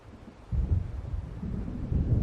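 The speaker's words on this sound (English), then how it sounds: "It seems there's a storm coming." Low, deep rumbling thunder of an approaching storm in a video game swells in after a quiet start and rolls on heavily, close and loud, with no speech.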